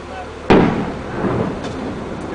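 Mortar round exploding on a mountaintop during fighting against the Taliban: a single sharp, loud boom that rolls off into a rumbling decay, heard from a distance with faint voices around.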